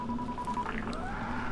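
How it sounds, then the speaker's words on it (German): Phone dialing tones in the video game Dying Light: a steady electronic tone that shifts pitch partway through, clear and close over low background game ambience, with no talk. "Ich telefoniere erstmal wieder mit GRE."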